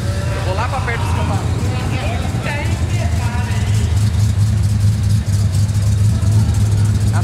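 An old classic car's engine rumbles and revs steadily at a classic car meet, loud and close, with people talking over it.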